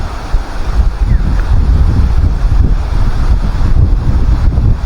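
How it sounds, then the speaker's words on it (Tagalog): Strong sea waves breaking at the shore with whitecaps, heard as a loud, continuous rushing surf mixed with heavy wind rumble on the microphone, steady for the whole stretch. "Wow, lakas ng alon,"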